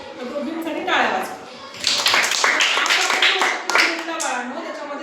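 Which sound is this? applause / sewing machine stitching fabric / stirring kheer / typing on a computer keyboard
applause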